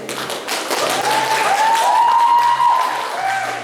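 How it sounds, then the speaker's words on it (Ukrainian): Applause from an audience at a Ukrainian spring beauty pageant greets a contestant, steady clapping filling the room throughout with a sustained tonal whistle or feedback rising over it. "Оплески їй, молодець."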